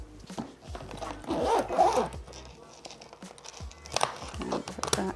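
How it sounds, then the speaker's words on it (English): Zipper pulled closed on a Quince front-pocket carry-on suitcase, a close, scratchy rasp lasting about a second, followed by soft handling rustles and a few brief clicks. "It zips up nicely."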